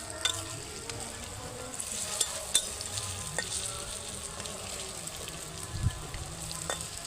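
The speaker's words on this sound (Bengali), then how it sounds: "এই 3টা আমি প্রথমে ভেজে নেব।" Soybean muitha frying in hot oil in a kadai: a steady, close crackling sizzle with occasional sharper pops and spatters throughout, loud and continuous, no voices over it.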